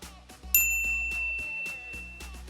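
A bright notification bell dings once, ringing out clearly over a quiet rhythmic music bed.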